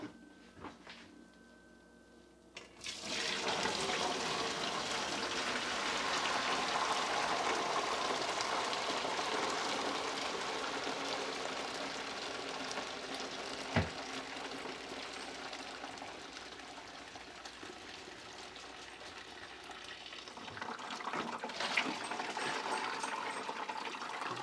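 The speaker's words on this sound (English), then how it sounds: "I'm going to go get the big pot full of curds and whey, and we're going to dump that in" Curds and whey poured from a big pot into a cloth-lined strainer, a steady close splashing and trickling of liquid that runs for about twenty seconds after a brief clunk, then tapers into dripping.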